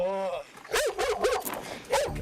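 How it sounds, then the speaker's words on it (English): Dogs of an anti-poaching canine unit guarding a reserve and rhino orphanage bordering Kruger National Park bark in a burst of several loud, close barks, with a voice heard briefly at the start. "this canine unit has 20 dogs that protect a reserve, a rhino orphanage"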